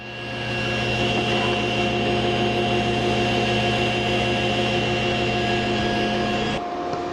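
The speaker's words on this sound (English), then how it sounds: "Now I'll take a pass, flip the piece around, and take one final pass to create a 1/4 inch wide centered groove." A SawStop table saw cuts a groove in plywood, a loud steady whine with strong tonal hum that holds evenly for about six seconds before the blade noise drops off.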